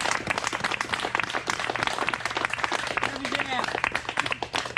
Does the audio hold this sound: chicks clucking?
no